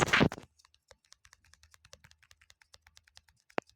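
Computer keyboard being typed on up close, with a quick run of light, irregular key clicks and one sharper tap near the end, following a brief burst of louder noise at the start.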